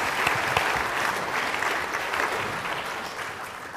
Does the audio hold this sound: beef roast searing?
no